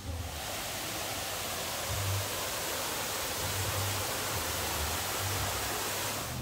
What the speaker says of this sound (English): I can see like a little tropical waterfall back there